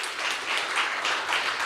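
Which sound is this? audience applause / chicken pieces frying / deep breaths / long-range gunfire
audience applause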